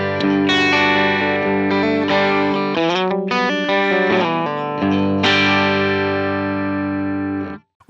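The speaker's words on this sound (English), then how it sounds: "I have the Matchstick tone here. I'm playing through my Vigier Expert Strat style guitar." A Vigier Expert Strat-style electric guitar plays through a Helix Matchstick amp tone: bright sustained chords and single notes with a slightly driven edge, then a brief busier passage and a final ringing chord that cuts off abruptly.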